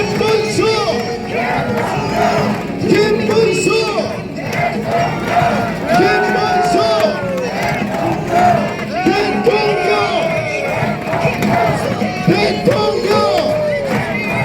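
A large outdoor crowd at a presidential election campaign rally in Hongseong shouts, chants and applauds. The roar stays loud and dense throughout, with rising cries and babble layered over continuous clapping.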